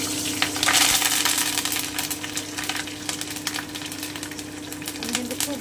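Mustard seeds and dried red chili hit hot oil, giving a close, busy sizzle peppered with sharp crackles and pops, over a steady low hum.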